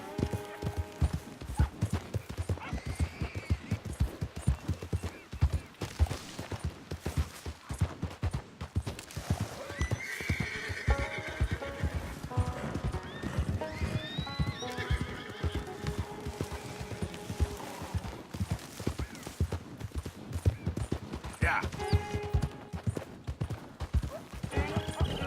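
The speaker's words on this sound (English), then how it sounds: "this guy's a slow horse" Horse hooves clip-clop steadily in the video game Red Dead Redemption 2, with repeated whinnies and neighs over the continuous hoofbeats.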